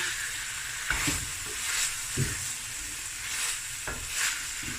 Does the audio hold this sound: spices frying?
yes